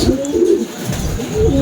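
Racing pigeons coo steadily and close by, their low rolling calls repeating over about two seconds with no one talking.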